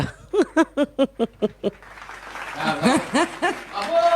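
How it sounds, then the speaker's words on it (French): A television studio audience at a Paris come-back special applauds. It starts with a row of rhythmic, voiced chant-like bursts, then turns into mixed clapping with chuckles and talk. "Applaudis bien fort."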